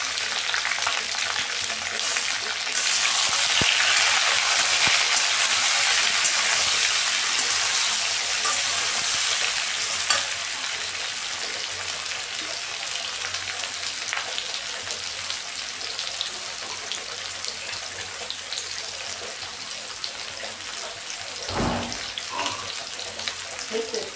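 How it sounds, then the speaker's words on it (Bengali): Chopped green chillies frying in hot oil with potatoes for Bengali-style dum aloo, a steady close sizzle with a few stirring scrapes, fading slightly toward the end. "তার আগে দিয়ে দিলাম আমার কুচিয়ে রাখা কাঁচা লঙ্কাগুলো, যাতে একটু তেলের সাথে ভাজা হয়ে যায়"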